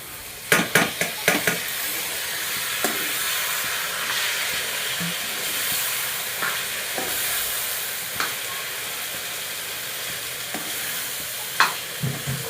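Sliced bitter gourd and tomatoes fry in a pan with a continuous sizzle and hiss, while a spoon stirs and scrapes in a few sharp clatters near the start and at scattered moments, heard up close.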